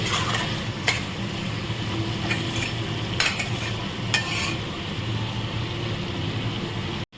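Potatoes with yogurt and ginger paste sautéing in a pan, a steady nearby sizzle broken by several sharp spoon scrapes against the pan, cutting off abruptly at the end.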